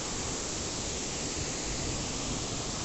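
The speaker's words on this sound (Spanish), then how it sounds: "pues tenemos la cascada" Steady broadband rush of Cascada Paraíso Escondido, a waterfall in Berriozábal, Chiapas, a continuous dense roar with no pauses, fairly close and even in loudness, with no voices over it.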